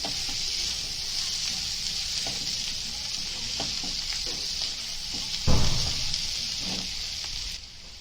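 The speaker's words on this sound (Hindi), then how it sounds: "टमाटे को अच्छे से भूनेंगे इसके अंदर।" Tomatoes fry in a pan as the base for a masoor dal with soya greens, giving a steady close sizzle throughout with a few soft stirring knocks and one brief thump near the end.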